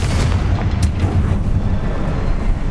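Confringo spell blasts in Hogwarts Legacy, a dense, roaring fiery explosion with rumbling low end that sustains loudly throughout with a few sharp crackles on top.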